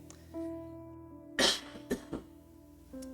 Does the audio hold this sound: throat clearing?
yes